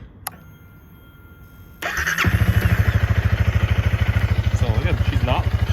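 A 2021 Honda Rebel 300 motorcycle cranks and fires up after a faint click, then settles into a steady, loud, close idle with a rapid even engine pulse.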